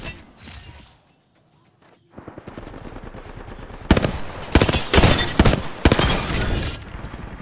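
Heavy automatic gunfire from Apex Legends rattles in loud, dense bursts, beginning faintly and then breaking into rapid volleys that seem to come from several directions at once.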